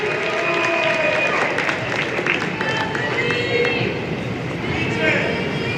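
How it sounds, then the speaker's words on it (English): An awards ceremony audience claps steadily and fairly loudly throughout, with cheers and shouting voices mixed into the dense applause. "Guys, keep clapping."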